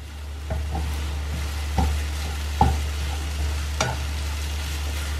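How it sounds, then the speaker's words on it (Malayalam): Egg bhurji made creamy with milk is stirred in a pan on a low gas flame, a soft continuous sizzle punctuated by several distinct taps and scrapes of a spoon against the pan, close, under a steady low hum. "നല്ലോണം ഇളക്കി കൊടുക്കുക"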